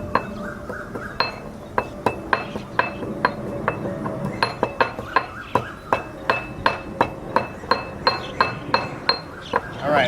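Two chilies and pepper pounded in a mortar for a quinoa dish, a steady run of sharp clinking strikes, roughly two per second, close and fairly loud with no talk.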